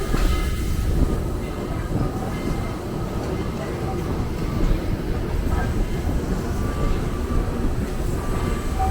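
A passenger train rolls steadily along the rails, a continuous rumbling roar with faint rhythmic clatter, close and loud throughout.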